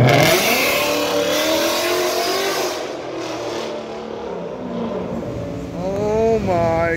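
A 2019 Ford Mustang 5.0 V8 with a Corsa exhaust revs hard and loud, a sustained roaring engine note that dips and then climbs again in a rising rev near the end, with faint voices in the background.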